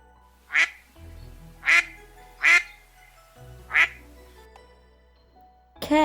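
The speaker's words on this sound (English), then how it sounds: "duck" A duck quacks four times at a slow, uneven pace, each quack short, nasal and close, with quiet gaps in between and a fifth quack starting as it ends.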